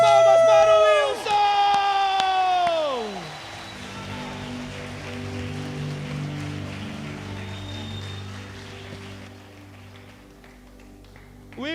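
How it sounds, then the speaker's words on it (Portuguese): A church congregation breaks into sustained applause during a worship service, with dense clapping rising after a few seconds of singing and continuing steadily under the hall's reverberation. "Uma salva de palmas para o"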